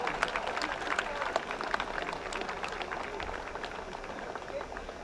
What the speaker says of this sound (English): Let us give all of those sponsors a round of applause.